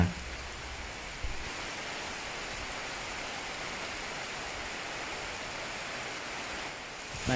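Heavy rain falls at a campsite beside a swollen stream, a steady, even wash of hiss and rushing water at moderate level with no voices.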